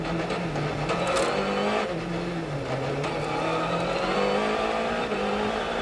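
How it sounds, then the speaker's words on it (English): Onboard a Volkswagen Polo R rally car on a stage of the 2013 Rally Monte Carlo, the engine revving hard and shifting through gears in a loud, continuous drone with rising and falling pitch. "Let's take a moment to enjoy the ride inside this Polo R."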